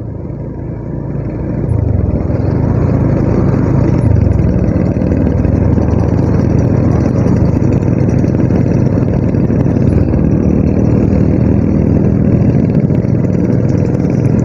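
Four Vespa scooters ride along a road near a motorcycle, their engines giving a steady continuous rumble over wind and road noise, loud and close throughout with no talking.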